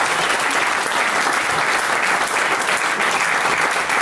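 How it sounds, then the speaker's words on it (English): A crowd applauding steadily, dense clapping that holds at an even level throughout with no pauses or talk. "one more round of applause for Barry and Pam."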